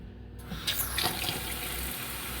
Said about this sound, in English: See, aeration. The water is not a solid stream. Now that is great water flow right there.